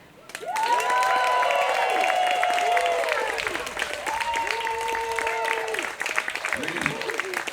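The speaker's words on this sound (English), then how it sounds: "Nice big round of applause for him." A crowd breaks into sustained applause with scattered cheering at an outdoor Fourth of July celebration, the clapping loud and continuous for several seconds while a voice speaks over it.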